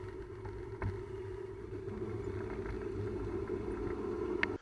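On a pig farm, a vehicle engine drones low and steady as it drives up, a moderately near, continuous rumble with a few faint knocks.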